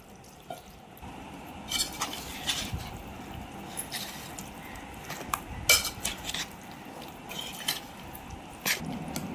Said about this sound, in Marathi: आता हे कोमट झालेलं जे तेल आहे ना ते मी यामध्ये मिक्स करते